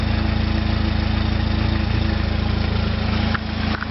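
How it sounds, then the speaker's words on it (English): A 1999 Jeep Wrangler SE idles with its original exhaust, heard close at the tailpipe as a steady, fairly quiet low rumble with even pulsing, briefly dipping near the end. "The exhaust at the tailpipe is actually pretty quiet."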